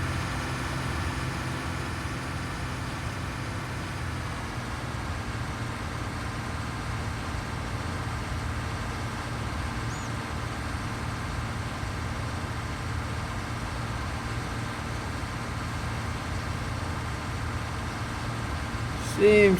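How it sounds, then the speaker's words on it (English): A harvester engine runs steadily in Farm Simulator 19 with a continuous low rumble and hum, even and close, and a person speaking alongside it. "the engine is still spinning, the shaft is still spinning"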